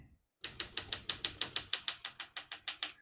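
Typewriter keys on a 1965 Olympia SM8 portable typewriter strike in a quick, even rhythm, about fifteen crisp mechanical clacks close by after a brief silence.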